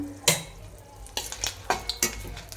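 Six dried red chillies frying in hot sesame oil, a quiet background sizzle punctuated by several sharp spatula scrapes and taps against the pan, close up.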